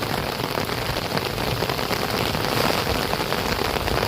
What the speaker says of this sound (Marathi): पाऊस आलाय